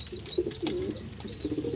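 Soft, low pigeon cooing repeats in short phrases, with thin high chirps drifting over a faint background hum.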